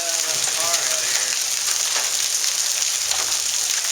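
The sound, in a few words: hail falling during storm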